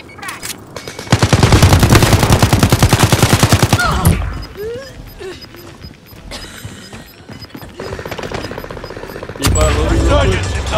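Rapid automatic gunfire in a first-person shooter, a loud sustained burst of closely spaced shots followed by scattered single shots, a crash and another heavy burst, with game radio voices between.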